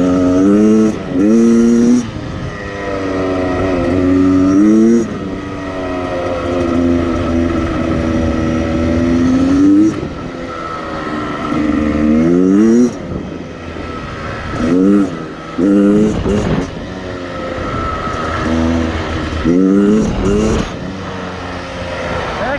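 A 2019 Beta 300 Xtrainer two-stroke enduro motorcycle revs repeatedly while riding off-road, its crisp engine note rising and falling in several sharp bursts as the throttle is opened and closed, close and loud throughout.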